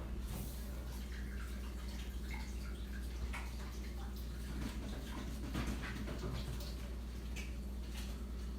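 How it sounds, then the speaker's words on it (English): Hands being washed under a running kitchen tap, a soft, steady stream of water flowing quietly and continuously with faint splashing. "Let me wash my hands real quick."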